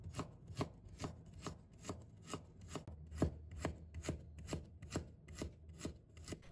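A knife cuts peeled ginger into shreds on a cutting board, giving a steady run of crisp, evenly spaced chops, close and fairly quiet.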